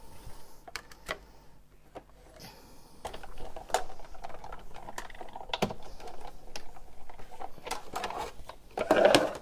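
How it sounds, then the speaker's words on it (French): A sewing machine stitching a small paper heart for a Valentine's card runs in short, irregular bursts of close, crisp clicking and tapping, with brief pauses and a louder rattle near the end. "je vais faire le petit point de piqûre sur mon plus petit des cœurs"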